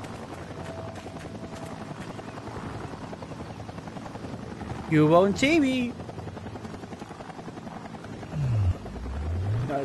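Steady whirring drone of helicopters throughout, with someone speaking briefly over it and a few electronic game tones, in the PC game Sniper Ghost Warrior.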